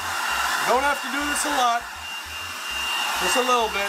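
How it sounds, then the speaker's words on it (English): A heat gun set to maximum blows with a steady airy roar close by, running continuously beneath a man's brief speech. "grab a heat gun, turn it on max, and slowly go over that"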